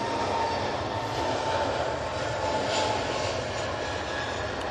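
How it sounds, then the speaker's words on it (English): Aer Lingus airliner arriving from Dublin at Manchester Airport during Storm Amy, its engines a steady, broad roar that holds at a constant level throughout, mixed with wind noise and no talk. "Aer Lingus A380 now coming in from Dublin."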